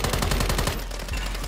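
A rapid burst of automatic gunfire in Call of Duty: Modern Warfare III (2023) rattles loudly, then trails off into a few scattered shots.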